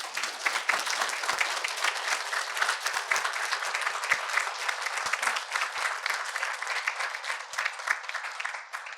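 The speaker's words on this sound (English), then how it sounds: "Can y'all give them a round of applause?" Audience at a university talk giving a sustained round of clapping, bright and steady for the full length, fading slightly toward the end without any speech over it.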